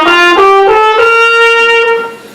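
A trumpet played with its mouthpiece attached sounds a loud, close, sustained note with rich harmonics, preceded by a few short tongued attacks, then fades out.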